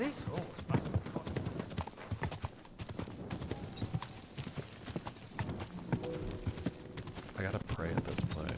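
Horse hooves clip-clop steadily on a road in the medieval video game Kingdom Come: Deliverance II, with occasional snorting and game voices talking over the steady rhythm.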